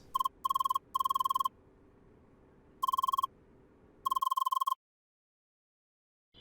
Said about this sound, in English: Notifications get a tiny bit ahead of themselves here.